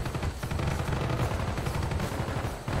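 Rapid automatic gunfire from a weapon in the Call of Duty: Black Ops video game, loud and continuous bursts of shots with no pause across the whole stretch.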